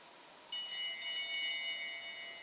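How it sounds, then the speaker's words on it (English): A last-lap bell at a track cycling race clangs sharply and keeps ringing in quick bright strokes, moderately near, after a short quiet lead-in with no voices. "The bell rings, 1 lap to go."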